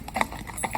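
Hooves of Mina, a young Friesian filly from Holland, clip-clop in a quick uneven run of sharp strikes on a hard surface, close by and brief.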